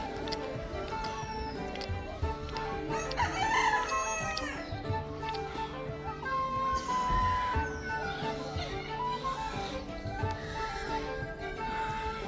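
Roosters crow over and over in a village farmyard, calls overlapping amid steady clucking from a flock of chickens, loud and constant throughout.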